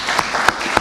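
Audience applause following a call to thank an honoree at a Congolese labour event, a dense wash of clapping with a few sharper claps standing out, moderately loud and without voices.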